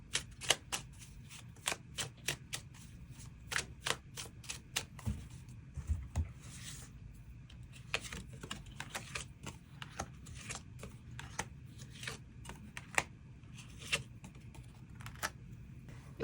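Tarot cards shuffle and are drawn in a quiet room, producing a long run of crisp, close riffling flicks and soft card snaps in an irregular rhythm.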